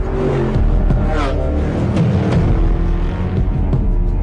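Car engine driving at speed: a loud, close, continuous rumble with rising and falling revs and shifting tones throughout, and a faint voice briefly over it.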